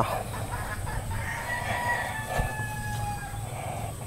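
Young pullets, newly placed in a pen and not yet fully feathered, cluck steadily as a flock, with a few louder calls rising over a constant low background hum.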